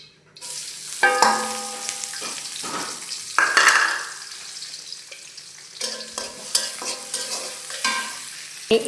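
Onions and green chillies frying in hot oil for a Bangladeshi botboti vegetable fry, a steady close sizzle broken by several bursts of spoon scraping and stirring against the pan.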